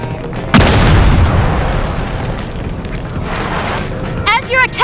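Grenade blast in a gangster-themed Vegas video game, one loud sudden boom with a long rumbling tail, followed by voices at the end.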